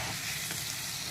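Potatoes go into a hot pan with ginger, garlic, coriander and mint paste for a samosa filling, and a loud, continuous sizzle and hiss of frying fills the moment with no talk.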